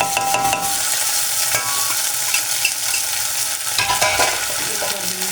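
Chopped tomatoes frying in a kadhai while curry pakora is made, a steady loud sizzle with stirring scrapes throughout and no voices.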